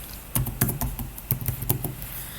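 Keystrokes on a computer keyboard enter an IP address for an SSH connection, coming as irregular close bursts of clicky taps with short pauses between.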